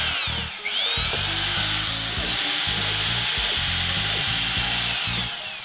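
A power drill bores guide holes into MDF, giving a steady, close, loud whirring grind that rises at the start and runs continuously for several seconds before easing off at the end, with no voices.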